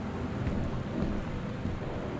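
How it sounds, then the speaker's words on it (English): Steady thunderstorm with rain pouring down and a low continuous rumble of thunder, dense and loud throughout with no pauses. "This thunder is scaring the piss out of me"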